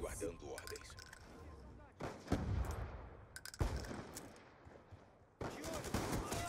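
Rapid gunfire bursts from the Black Ops 2 video game, with several dense volleys and sharp shots at moderate loudness, mixed under someone talking over the action.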